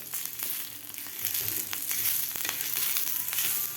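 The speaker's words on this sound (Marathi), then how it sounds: "आता व्यवस्थित आपल्याला भाजून घ्यायचं आहे एक मिनिटभर लसूण आलं आणि कांदा खालच्या मसाल्याबरोबर" Garlic cloves, ginger and a roasted onion sautéing with spice mix in a pan for masala karela, giving a continuous close sizzle with scraping stirs and scattered crackles, no voices.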